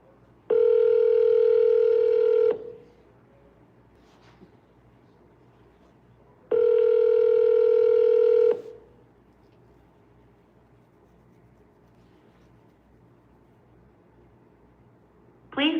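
Outgoing telephone call: two long ringback tones, each about two seconds, separated by a quiet gap, clear and close, ending with a brief click or beginning of an answering message; no one speaks over them.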